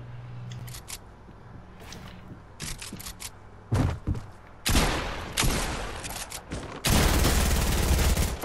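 Gunfire from a video game shooter: scattered sharp shots early on, then dense, loud bursts of rapid fire in two long stretches near the end.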